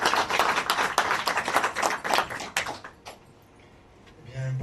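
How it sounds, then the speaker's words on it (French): An audience at a nutrition lecture claps loudly in a dense burst of applause that fades out after about three seconds, leaving a quiet room with faint movement. "Et professeur Joyeux, on l'applaudit tous bien fort s'il vous plaît"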